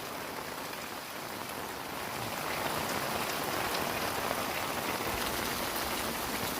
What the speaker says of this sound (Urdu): انتہائی خطرناک قسم کی بارش کا سلسلہ جاری